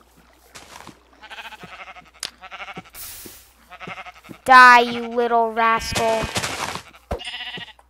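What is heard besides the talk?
sheep bleating in Minecraft video game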